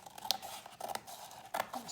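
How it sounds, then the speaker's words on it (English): Scissors snip through a board being separated from the original spine of a 1586 Renaissance book during restoration, giving a few short, quiet cuts spaced out over a faint background. "So I'm going to carefully just use scissors here"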